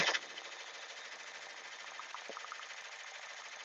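An embroidery machine runs a tack-down stitch on an appliqué shirt, giving a steady, fast mechanical whir with even stitching rhythm at moderate volume.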